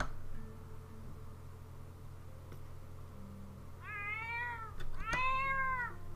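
A pet cat in The Sims 4 gives two drawn-out meows, one after another near the end, over a quiet background hum and faint game sounds.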